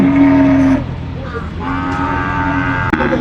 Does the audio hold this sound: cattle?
yes